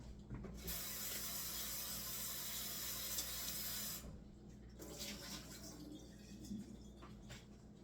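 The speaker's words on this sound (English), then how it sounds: "Now we're going to wash some more potatoes here." Potatoes washed under a running kitchen tap, a steady hiss of flowing water that cuts off midway, followed by softer splashing and rubbing of the potatoes in the sink, quiet and without speech.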